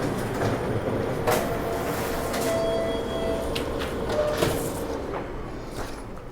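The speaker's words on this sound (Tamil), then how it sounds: "அழகாக உங்களுக்கு பக்கத்தில் பிரிண்ட் ஆகி வந்திருக்கு பாருங்கள்" A multifunction printer copying a single sheet, giving a steady mechanical whir and rattle with rolling feed clunks and a few brief higher whines, fairly close and continuous throughout.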